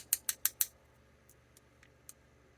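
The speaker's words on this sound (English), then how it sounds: "Pop that screw back in." Four quick, sharp plastic clicks at close range as a screw is worked back into a Ghostbusters 40th Anniversary O-ring action figure, then a few fainter scattered ticks in quiet surroundings.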